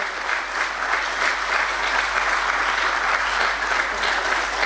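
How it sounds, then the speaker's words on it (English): Steady applause from an audience at a stock exchange listing ceremony, dense and sustained clapping throughout with no pauses. "Can we please have a big round of applause, ladies and gentlemen?"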